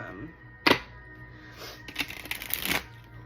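Tarot cards shuffled and drawn by hand, a sharp riffle snap followed by a longer burst of rustling, flicking card sounds, fairly close amid faint room tone.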